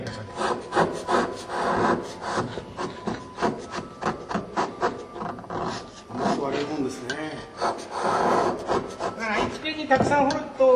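Hand carving an Ogatsu ink stone, a tool scraping and rasping against the stone in steady repeated strokes, close and fairly loud, with faint talk at moments.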